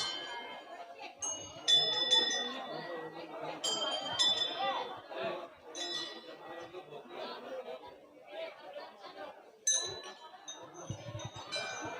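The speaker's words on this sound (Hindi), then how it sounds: "जहाँ घंटियाँ बजा करके लोग अंदर जाते हैं और गुरु महाराज को प्रणाम करते हैं" Small bells are rung repeatedly by visitors at an old ashram temple, bright clangs recurring over a steady murmur of crowd chatter.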